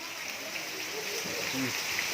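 Steady rain hisses continuously and fairly evenly on surfaces outdoors, with a faint voice briefly under it.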